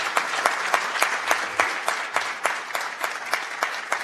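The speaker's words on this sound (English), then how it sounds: "Let's give them one more big round of applause." A seated audience at a transit board of directors meeting applauds retirees with steady, dense clapping that holds for several seconds, close and moderately loud, with no talk over it.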